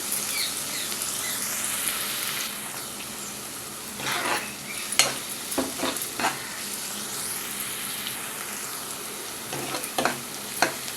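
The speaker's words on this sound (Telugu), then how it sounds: "ఉల్లిపాయలు బాగా వేగాలి" Onions fry in a pan for chicken gravy, sizzling steadily up close while spoon scrapes and pan knocks come in short bursts at irregular moments. Nobody speaks over the cooking.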